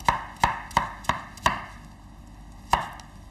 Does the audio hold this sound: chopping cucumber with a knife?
yes